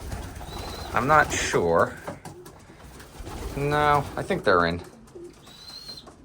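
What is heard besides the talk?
young pigeons cooing in their loft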